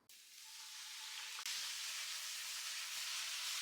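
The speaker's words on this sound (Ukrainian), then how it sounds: "якраз зараз найкращий час, щоб поставити сюди смажитися перчик" Bell pepper hits a hot frying pan already holding beetroot and onion for a borscht base, setting off a loud, steady hiss of sizzling oil that surges once and continues unbroken.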